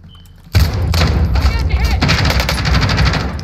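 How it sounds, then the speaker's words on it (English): Warzone gameplay gunfire, an AS VAL rifle among it: rapid, loud automatic bursts and heavy thuds start abruptly and continue almost without pause, close up, with speech running over the shooting. "Mitch, I shoot way too many bodies."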